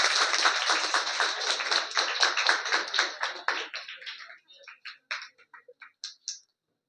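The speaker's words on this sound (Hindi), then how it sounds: "ताली बजाएंगे जोरदार।" Enthusiastic applause from a group at a school eco club event, dense clapping that thins out into scattered individual claps before stopping.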